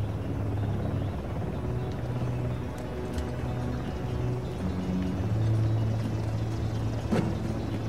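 A helicopter in Uncharted: The Lost Legacy drones steadily with a continuous low rotor rumble and engine hum, fairly loud and constant throughout with slight swells.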